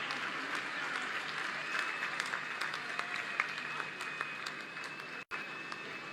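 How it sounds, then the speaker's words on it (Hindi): Sustained applause from an audience at a Lucknow ceremony honouring Olympic athletes and medalists, a dense wash of many hands clapping steadily at close range for the whole stretch, broken by one short dropout near the end. "तो तालियां रुकनी नहीं चाहिए आपकी"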